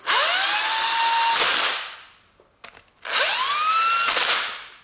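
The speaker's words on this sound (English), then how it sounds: "I can use carefully this 10 millimeter socket" Power tool drives a 10 mm socket on a bolt while a Toyota Camry 2.4 VVT-i engine's timing chain is assembled, giving two loud, close whirring runs that spin up in pitch, separated by a short pause with faint clicks.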